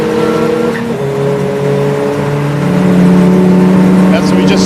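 Golf TDI and TT TFSI race cars in a 750MC Roadsports race at Croft, engines droning and rising as they pass at a steady roar, with a commentator talking over the noise.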